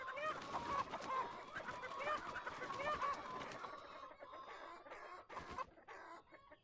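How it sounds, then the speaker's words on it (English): Chickens cluck continuously at a chicken coop in a VR farming game, with overlapping busy calls and a few louder squawks near the end, with no talking. "And we can also check in on the chicken coop."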